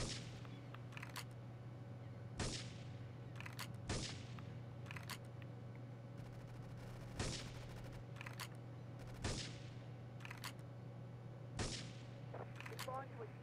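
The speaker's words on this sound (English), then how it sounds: "Investigate reports of gunfire and explosions." Repeated sharp gunshots and booming blasts at Portland Harbor in Grand Theft Auto 3: The Definitive Edition ring out at irregular intervals over a steady low hum, each crack decaying quickly.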